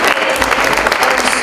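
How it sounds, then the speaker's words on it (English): Audience at a local candidate forum applauding, a brief, loud, dense wash of clapping hands from a room full of people. "you deserve to give yourselves a round of applause"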